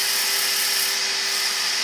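A power sanding pad held against a turned wooden bowl gives off a steady, loud, even whir with a constant high hiss and no break, heard up close.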